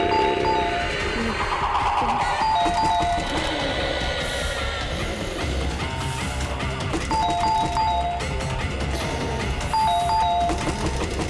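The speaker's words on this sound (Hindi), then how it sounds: "डोरबेल बजाओ या नॉक करो।" A two-tone doorbell chime rings repeatedly over a busy backdrop of music and rumbling noise, the ding-dong pattern recurring several times.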